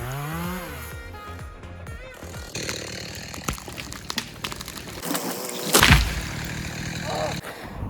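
Chainsaw making the back cut while felling a tree alone, the saw running loud and steady close by, its engine note bogging and surging as the bar bites through the trunk.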